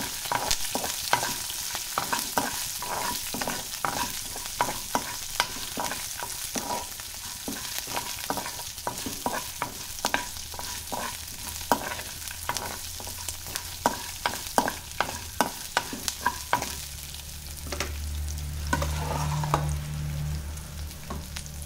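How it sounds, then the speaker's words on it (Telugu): Cumin, mustard seeds, curry leaves and green chilli pieces frying in hot oil for a wheat rava idli tempering, a steady sizzle with frequent sharp pops and crackles and a spoon stirring now and then, close and alone. "జీలకర్ర, ఆవాలు, కరివేపాకు, పచ్చిమిర్చి ముక్కలు వేసేసి వేసుకోవాలి."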